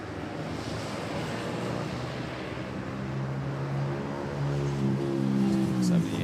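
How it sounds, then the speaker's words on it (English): Cebu Pacific Airbus A321 arriving at Manila airport, a steady distant jet roar with a rising whine that grows slightly louder toward the end, wind noise on the microphone throughout. "We have the Cebu Pacific A321 arriving from Hanoi, Vietnam."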